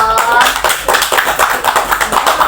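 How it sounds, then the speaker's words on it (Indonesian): A group of people clap their hands together in a quick, dense burst of applause that fills the whole moment, with a faint voice underneath, as a classroom group cheers at the end of a podcast on social differentiation. "Tepuk tangan dulu dong."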